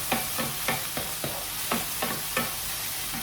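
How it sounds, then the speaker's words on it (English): Cherry tomatoes and onions sauteing in a pan, with a soft steady sizzle broken by regular scraping stirs, about seven strokes in a few seconds, close by. "we will just saute the cherry tomatoes and onions for about maybe 2 minutes"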